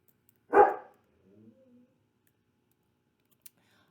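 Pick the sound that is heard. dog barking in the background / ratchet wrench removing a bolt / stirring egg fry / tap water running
dog barking in the background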